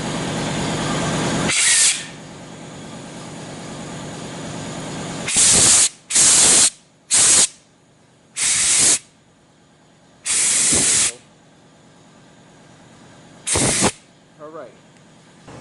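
Compressed air hisses in a series of sharp blasts, one long and several short irregular bursts, through the valves of a 4T65E transmission channel plate on the bench, with someone speaking briefly between blasts.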